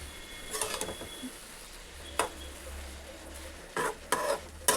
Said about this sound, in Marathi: थोडी थोडी भाजी टाकून मिक्स करायची